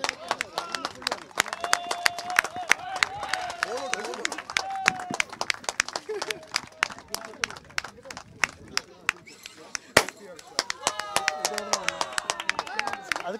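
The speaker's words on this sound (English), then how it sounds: "Guys, a round of applause." Crowd applause at a cricket T20 prize distribution ceremony: sustained, uneven clapping runs throughout, with voices and cheering mixed in under it.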